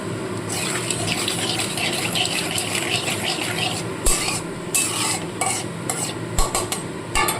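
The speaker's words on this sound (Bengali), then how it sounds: "তেলটা গরম হয়ে গেছে এখানে আমি দিয়ে দিচ্ছি কালো জিরে ফোড়ন" Black cumin seeds sizzling in hot oil in a pan, a loud dense hiss and crackle that carries on steadily, broken later by several sharp stirring clatters and bursts, no voices.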